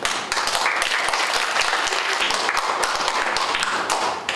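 Large crowd of youth at a church summer retreat gives a big round of applause welcoming a pastor to the front, dense and loud clapping sustained evenly throughout with sharp individual claps standing out.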